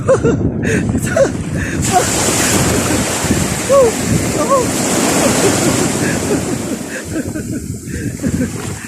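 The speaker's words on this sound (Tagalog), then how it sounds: "yung mga alon ay sumasalpok po sa atin" Loud ocean waves surge and wash continuously, with strong wind buffeting the microphone throughout.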